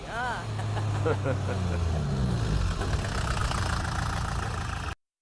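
A tractor engine idling steadily with a continuous low rumble and knocking, with a brief voice near the start, before cutting off abruptly.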